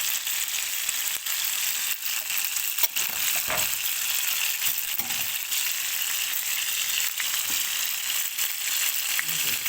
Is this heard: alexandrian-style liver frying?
yes